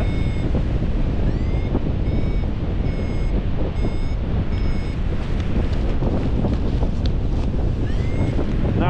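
Strong wind buffets the microphone on the coastal cliffs at the Old Head of Kinsale, a loud, constant roaring rush with surf-like noise, joined by occasional high whistling tones.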